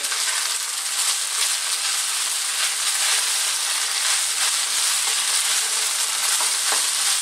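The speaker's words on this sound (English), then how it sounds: "I'm going to finish this off with some spring onions or green onions, whatever you call them." Chicken fried rice with spring onions stir-fries over heat in a continuous, loud, dense hiss and sizzle, with faint scraping of the tossing rice and no pauses.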